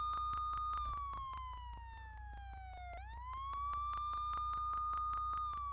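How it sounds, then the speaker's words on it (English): A police siren wails in a Nancy Drew video game, a faint tone that sweeps slowly down and back up over a rhythmic ticking pulse. "I know what a police siren sounds like"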